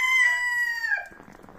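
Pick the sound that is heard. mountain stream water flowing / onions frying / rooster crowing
rooster crowing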